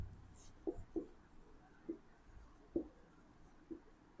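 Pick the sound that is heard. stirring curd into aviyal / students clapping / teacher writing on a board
teacher writing on a board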